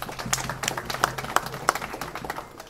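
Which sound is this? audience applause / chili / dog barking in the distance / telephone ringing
audience applause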